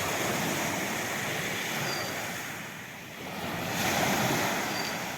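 Sea waves wash onto a sandy beach at Dilek Peninsula National Park, a continuous roaring surf that dips briefly and then swells louder again, mixed with wind buffeting the microphone.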